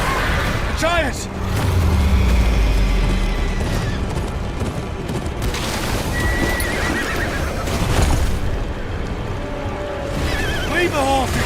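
Horses in the Game of Thrones: King's Road video game neigh and whinny repeatedly amid clip-clopping hooves, deep booms and a busy battle soundscape, with a few loud close whinnies standing out.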